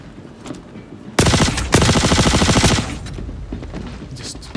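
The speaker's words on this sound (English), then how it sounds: "I pressed fire there just to make sure my gun was actually firing" Gunfire in the first-person shooter mode of Star Citizen: a loud, rapid automatic burst erupts, pauses briefly, then a second sustained volley rattles on before cutting off, leaving quieter game ambience behind.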